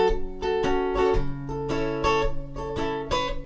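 Acoustic guitar strumming chords, steady rhythmic strums with short muted chops between ringing chords, close and clear, no voice.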